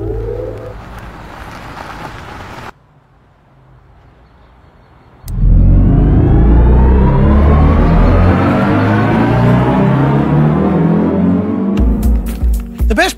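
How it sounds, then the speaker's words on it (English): BMW i4 M50 electric car with its special M drive sound: after a quieter stretch, a loud, sustained synthetic drive tone swells and rises steadily in pitch, like hard electric acceleration, with no talking. "the i4 M50 received a special M sound treatment"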